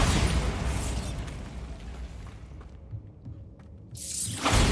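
A Bombarda blasting spell goes off in a Harry Potter-style spell-casting video game, a loud broadband explosive burst and rumble that swells, dips briefly, then surges again near the end, with no talk over it.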